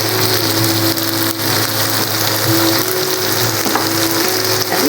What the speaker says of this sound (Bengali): এখন ভালো করে সব একসাথে কষিয়ে নেব।